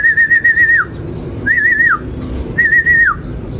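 Racing pigeons arrive at the loft after a 183 km derby race from San Narciso, Quezon, and three loud, near, warbling whistle-like calls ring out in even spacing over a low background.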